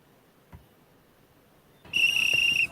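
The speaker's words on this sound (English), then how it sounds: "any instance of blowing a whistle to produce an audible sound" A single shrill whistle on a soccer field blasts for under a second, loud and near, after a stretch of quiet outdoor background with a faint thump.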